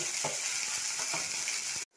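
Chopped onion, ginger, garlic, chilli and tomato fry in a wok with a loud, continuous close sizzle and occasional stirring scrapes, cutting off sharply at the end.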